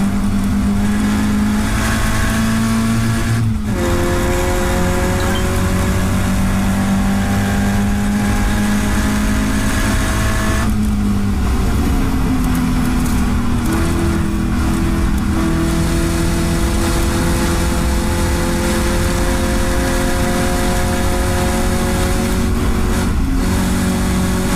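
Caterham 7 race car at Knockhill accelerating hard out of a corner, its engine climbing through the revs with brief dips at gear changes, loud and close throughout, with no voice over it.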